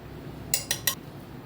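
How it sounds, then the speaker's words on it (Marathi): Three quick metallic clinks of a spoon against a pot or bowl while mango pickle masala with chilli powder is stirred, close and fairly soft, spaced evenly over about half a second. "मसाला लोणच्याचा मसाला छान हलवून घेऊया"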